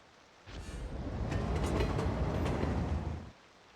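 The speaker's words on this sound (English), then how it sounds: "There's always a train when you need one." Train passing in the city-building game Cities: Skylines 2, a rumbling clatter of wheels on rails that rises abruptly, holds steady for about three seconds with rhythmic clicks, then cuts off, heard alone.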